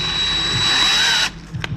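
Time-Sert drill bit cutting into an aluminum cylinder head of a T1N diesel engine, a steady loud whining drill run for over a second that stops abruptly, followed by brief faint clicks.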